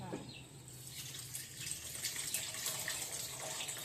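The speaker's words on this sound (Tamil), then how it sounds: "அப்புறம் கரைச்சி வச்ச புளி தண்ணியை ஊற்றுமா" Dissolved tamarind water is poured into a curry, a soft watery splash and trickle into the pan that runs quietly under faint kitchen background noise for a few seconds.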